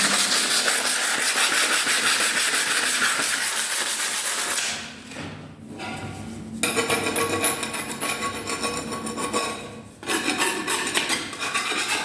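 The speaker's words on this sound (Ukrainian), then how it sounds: "и наждачку її гарненько ось так. Наждачка." Sandpaper rubbed over dried finishing putty on a wall, heard as loud, steady, close rasping strokes that stop briefly twice, with no speech.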